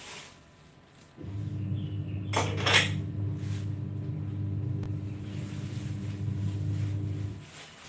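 Dishes, pots and cutlery being washed under a weak trickle of piped mountain water, a steady low running-water hum with a burst of clattering crockery in the middle, close by and with no talk.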